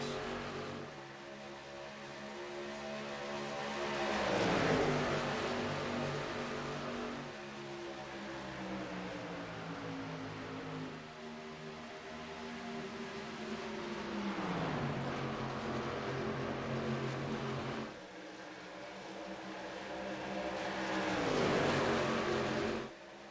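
Race cars roar past one after another in a battle for the lead, late in a race on lap 105. Each pass swells and fades with a falling engine pitch, and the waves come about every five to nine seconds.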